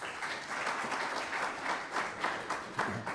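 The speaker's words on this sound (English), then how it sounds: "So let's give Odell a round of applause." Audience applause at a prostate cancer disparities conference, a steady wash of many hands clapping that swells and dips over a few seconds with no talk.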